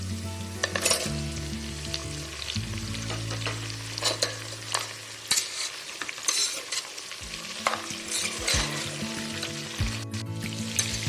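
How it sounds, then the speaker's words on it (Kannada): Brinjal (eggplant) and onion fry in oil in a pan over medium flame for a Karnataka-style yenne badanekayi curry, giving a steady close sizzle broken by repeated scraping stirs of a spatula against the pan. "ಮೀಡಿಯಂ ಫ್ಲೇಮಲ್ಲೇ ಇಟ್ಟು 10 ನಿಮಿಷ ನೀಟಾಗಿ ಫ್ರೈ ಮಾಡ್ಕೊಳ್ಳಿ."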